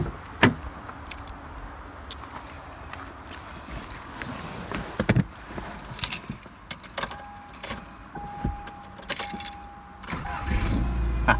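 A 2000 Subaru Outback with a newly fitted starter is started. Keys jangle and click first, then the engine cranks and catches near the end, all up close with no talking.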